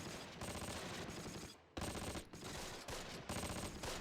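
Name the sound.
gunfire from blind firing in a video game street battle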